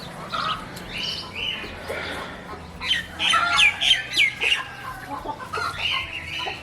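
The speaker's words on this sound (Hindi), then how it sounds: "ये वो जो जा रहा है उस तरफ वो मुर्गा है, और ये जो दीवार के साथ है ये मुर्गी है" Hens and a rooster on a desi and Shamo chicken farm cluck, squawk and chirp close by in bursts, with a busier flurry of calls midway and faint rustling underneath.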